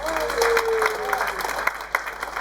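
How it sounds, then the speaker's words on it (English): Theatre audience applauding during a live comedy show at the Rosehill Theatre in Whitehaven, a moderate wash of clapping with some crowd noise and a faint whistle-like tone, brief and fairly close. "now I want to practice a 6 out of 10 round of applause"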